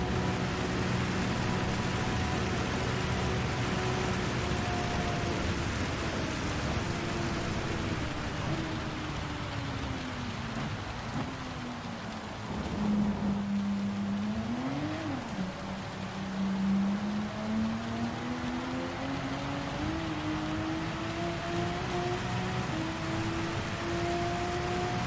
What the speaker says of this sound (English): Trying to see which way that rain's actually going.